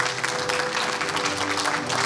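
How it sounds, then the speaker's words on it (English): A church congregation applauds for a kindergarten graduate at a Christian school graduation, steady dense clapping throughout with a faint sustained tone underneath. "let's congratulate him with a round of applause"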